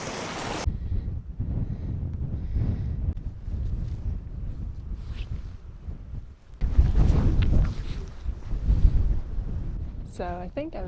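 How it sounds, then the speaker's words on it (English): Strong wind on a Dartmoor hilltop roars and buffets the microphone in heavy, uneven gusts, with a loud surge near the middle and brief bits of voice. "And it's very windy up here, I don't know if you can hear that."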